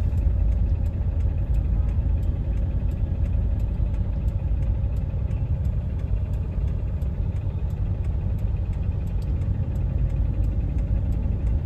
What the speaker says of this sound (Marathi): एवढे ट्रॅफिक आहे ना इकडं ठाण्यात, बेहिसाब ट्रॅफिक आहे इथं